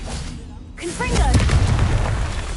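A Confringo blasting spell explodes in Hogwarts Legacy: a brief hush, then a loud booming blast that rumbles on, with a short voice-like call over the onset.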